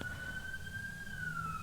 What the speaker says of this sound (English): There is an ambulance riding past.